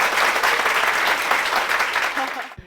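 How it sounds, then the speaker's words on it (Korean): A studio audience at a church program claps in steady, dense applause for about two and a half seconds, then stops abruptly. "박수 한번 주세요"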